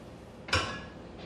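A cast iron frying pan is handled once on a kitchen stovetop, giving a single sharp metallic clank with a short ringing tail, alone against a quiet room.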